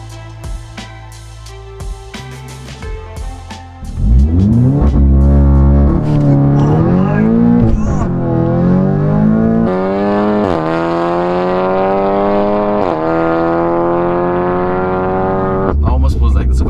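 Audi S3 four-wheel drive car launching hard: the engine revs sharply, then roars through rising gear pulls, loud and close, with brief talk in the cabin before the launch.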